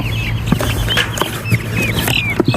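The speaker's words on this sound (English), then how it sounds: "So like I said, these are meat birds." Young meat chickens, fast-growing broiler birds, clucking and chirping while being handled, with a busy cluster of short calls and a few soft thumps and scuffles close by.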